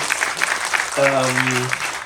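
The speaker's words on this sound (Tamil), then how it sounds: "ஒரு பலத்த கைத்தட்டல் கொடுத்தீங்கன்னா" Audience clapping at a music album press meet, steady applause from a crowd throughout, with a voice briefly speaking or singing over it midway.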